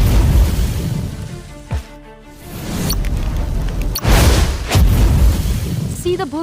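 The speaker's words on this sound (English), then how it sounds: "The longer Fireball flies, the bigger the explosion it causes." Fireball spell exploding in the VR game Tower of Titans, a deep boom around the two-second mark followed by further loud bursts and rumbling blasts, with faint game ambience between them and no voices.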